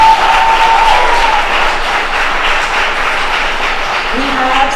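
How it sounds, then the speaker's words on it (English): An audience at a performance festival applauds the evening's performers, dense steady clapping filling the space and slowly thinning, with a faint voice or tone briefly audible underneath. "Can we get a round of applause for all of our performances tonight?"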